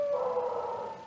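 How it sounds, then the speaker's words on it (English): A pet dog in a family home gives a single drawn-out howl, faint and a little distant, with nothing else heard over it. "that's my dog"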